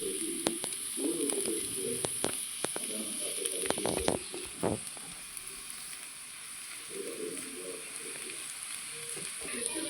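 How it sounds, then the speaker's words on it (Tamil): Garlic frying in oil in a pan, a soft steady sizzle running throughout with scattered sharp clicks of stirring, fairly quiet and without speech. "பேனில் எண்ணெய் ஊற்றிட்டு பூண்டை தூக்கி போடணும். பூண்டு நல்லா வதக்கணும்."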